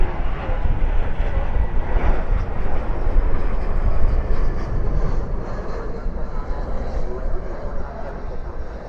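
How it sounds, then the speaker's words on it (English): An Airbus A321 lands at night at DFW airport, a loud, steady broadband jet engine roar with rumbling and wind buffeting that stays close throughout. "we go to a A321 trying to put its wheels back on the ground."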